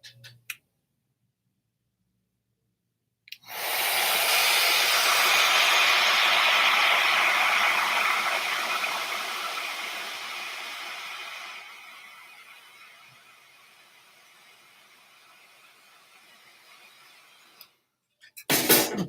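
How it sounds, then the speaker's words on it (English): A hair dryer blows steadily for about fifteen seconds, loud at first and then dropping to a lower setting before clicking off. "I'm going to hit it with a blow dryer just for a quick second."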